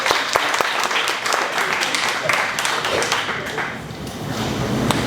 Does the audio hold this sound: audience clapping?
yes